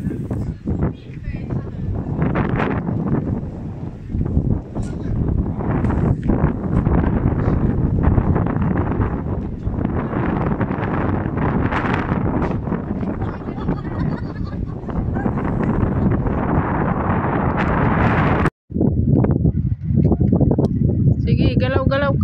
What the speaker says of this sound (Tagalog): Mabibingi ka talaga sa sa lakas ng hangin.